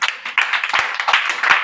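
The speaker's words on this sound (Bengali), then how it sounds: "গুড, হাততালি সবাই।" A group of students in a hostel quiz competition claps briefly for a correct answer, a quick, even patter of hands with no talking.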